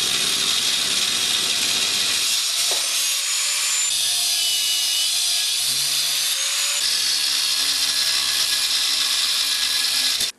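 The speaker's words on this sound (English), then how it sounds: "Break out the grinder. Try to clean these up." An angle grinder cleans up a freshly cast bronze spear point, a loud, continuous high-pitched whine and grinding hiss close by that shifts slightly in tone as pressure changes, then stops abruptly.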